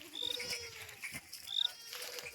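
Goats bleat several times close by, short wavering cries over quiet background sounds.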